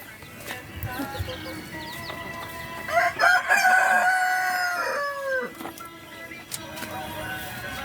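Roosters crow loudly and close by among clucking hens in a farmyard flock, with a long crow rising near the middle and scattered clucks before and after.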